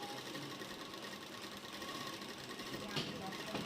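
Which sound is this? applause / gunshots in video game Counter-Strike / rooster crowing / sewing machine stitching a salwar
sewing machine stitching a salwar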